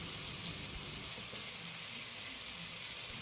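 Chopped tomato, potato and green chilli sauté in a pan for a Kerala-style potato and green peas curry, giving a steady, even sizzle throughout at moderate level, with no talking.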